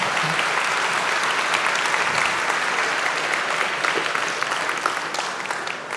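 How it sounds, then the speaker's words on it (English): Sustained applause from an audience at a tech talk, a dense, even wash of many hands clapping that holds steady for several seconds before easing slightly at the close. "Applause!"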